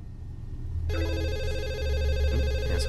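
A telephone rings in the video game The Assembly, a steady electronic ring that starts about a second in and continues loud and close over a low background hum, with no talk.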